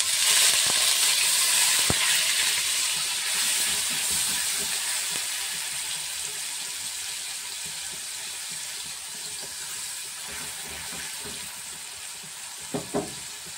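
Ground onion paste stirred into hot oil for chicken rezala, starting with a bright steady sizzle that gradually fades, with soft stirring scrapes and a couple of sharp clinks near the end; no talking.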